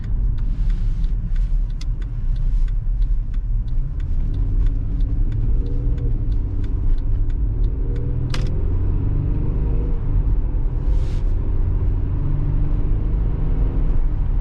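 A 2011 Mercedes E350 4Matic AWD wagon accelerating up to highway speed, heard from inside as a steady loud low rumble of engine and road noise with faint ticking clicks and a swelling drone.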